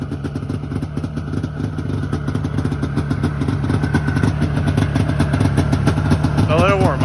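A 1994 Yamaha VMAX 600 snowmobile idles steadily after a cold start, a close, even mechanical clatter that swells slightly louder over the seconds, with people talking over it and a short whistle-like chirp near the end.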